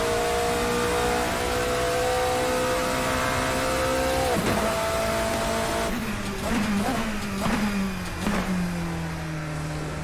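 A classic endurance race car engine in Assetto Corsa drones at high pitch, then drops and revs up again through several quick bursts, loud and close.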